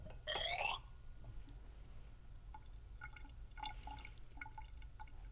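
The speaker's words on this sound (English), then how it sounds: "Put some water in my graduated cylinder." Water poured into a glass graduated cylinder during a lab measurement, a brief splashy burst followed by faint drips and trickles against a low room hum.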